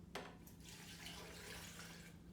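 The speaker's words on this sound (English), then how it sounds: "I'm going to pop in the coconut water now." Coconut water pouring into a blender jar for a green smoothie with spinach, a steady soft splashing stream lasting a couple of seconds, close and fairly quiet.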